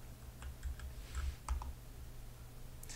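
Soft, close keyboard typing: a quick run of light key clicks over a low steady hum, then a quiet pause and a final faint tap.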